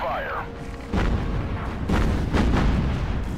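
A torpedo strike explodes against a warship during a naval battle in Battlestations: Pacific, with heavy booming blasts rolling in repeated bursts over a constant low rumble of combat.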